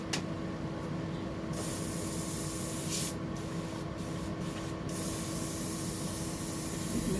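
An airbrush sprays paint onto a deep-diving fishing lure dressed as a Bony Bream, giving a steady close hiss with a few brief dips in the middle before it carries on.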